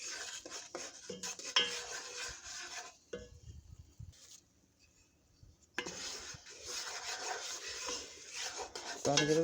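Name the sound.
stirring roux in a pot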